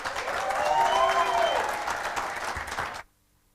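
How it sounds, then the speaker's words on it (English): At a human rights defenders award ceremony, the audience breaks into loud, dense applause with faint voices and a whistle-like tone under it, fading and cutting off to silence near the end. "Another beautiful round of applause."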